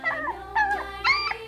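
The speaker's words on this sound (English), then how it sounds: "D is for dog." Dog giving three short, high whining howls in quick succession, close and fairly loud with no other sound around them.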